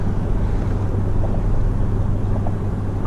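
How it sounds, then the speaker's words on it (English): A boat passes near an anchored fishing kayak by a bridge on a river, its steady low engine rumble and water wash continuous and fairly loud, with wind buffeting the microphone throughout. "The wake of this boat might move my anchor too."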